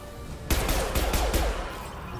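Gunfire in the video game Mass Effect 2 rattles out as a rapid burst of four or five close shots over a steady game background hum, with no talk.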